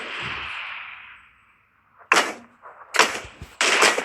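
Gunshots from the PUBG Mobile video game ring out alone: one sharp shot, then a closer burst of several shots in quick succession. A fading high whoosh comes before them.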